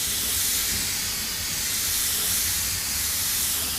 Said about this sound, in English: That's what's good about using an airbrush.